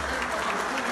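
An audience applauding at a political event, a dense continuous wash of clapping with a voice faintly underneath.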